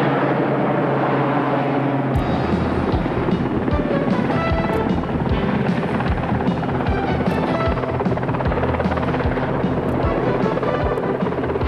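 A Navy training helicopter's rotor chops and its engine whines steadily, loud and close, with wind buffeting the microphone.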